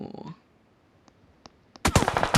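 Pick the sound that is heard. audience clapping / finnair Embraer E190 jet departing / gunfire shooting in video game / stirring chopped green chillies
gunfire shooting in video game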